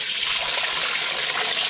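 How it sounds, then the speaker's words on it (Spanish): Water pours steadily into a pot on the stove to cover a marinated pork leg, a continuous close splashing rush heard alone. "Voy a cubrirlo de agua todo y le vamos a prender fuego"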